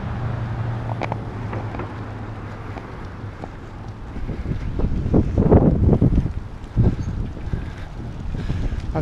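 Strong gusts batter the microphone on a small-town street walk in Morganton, North Carolina, a loud low rumble that swells and buffets throughout, heaviest midway, with no talking.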